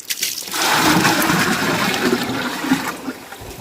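Water gushes steadily into a bucket, a continuous close splashing pour that fills the moment and then tapers toward the end, with no talking.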